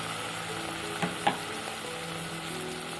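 Finely chopped tomato goes into a pan of well-fried onions, giving a steady low sizzle with a couple of brief clinks or stirs partway through, fairly quiet and continuous without talk.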